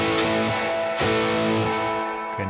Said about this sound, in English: Okay, now the spring reverb is going haywire.